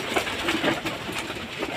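Racing pigeons coo softly in a loft, low murmuring calls repeating close by over a busy background of wings and movement.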